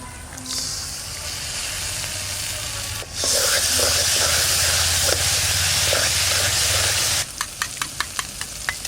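Ginger, garlic and tomato paste hit a hot mutton curry pot and sizzle loudly, a dense close hiss that surges after a short pause and then gives way to rhythmic stirring scrapes.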